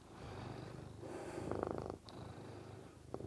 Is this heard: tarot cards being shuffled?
no